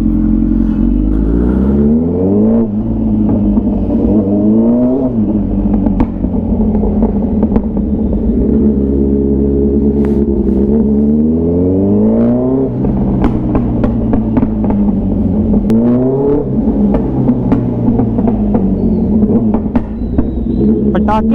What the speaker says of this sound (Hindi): पटाके पटाके पटाके, बस पटाके ही मार रही है बाइक आज।